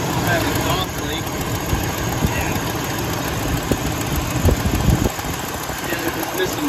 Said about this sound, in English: This side sounds like it's leaking.